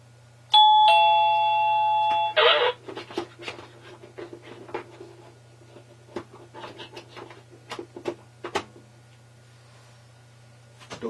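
A single electronic chime from an OxyLED D01 wireless doorbell plays a short melody, followed by faint scattered clicks and handling noises over a constant low hum.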